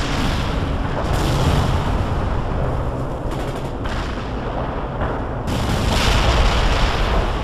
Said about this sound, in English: Coordinates locked down. Shells on the way.